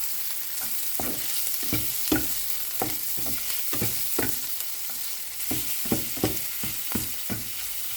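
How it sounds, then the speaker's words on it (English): Shrimps and garlic sauté in a pan for fried rice, a rhythmic series of close spatula scrapes and tosses over steady frying sizzle. "Then add the shrimps. Continue cooking until the shrimps turn into orange color."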